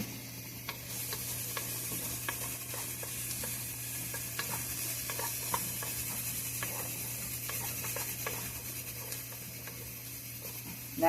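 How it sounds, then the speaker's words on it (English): Smoked sausage browning in a pan, giving a steady soft sizzle with scattered small crackles and pops throughout, close and moderately quiet, with no talking. "smoked sausage to this. Let it brown up."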